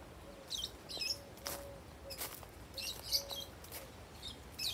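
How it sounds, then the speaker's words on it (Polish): Small birds chirp in a botanical garden with cacti and flowering trees in Santa Maria, Cape Verde: quiet, scattered high tweets repeat every second or so against a soft outdoor hush, with a few faint low whistled notes in between. "Te piękne, różne ptaszki tutaj są."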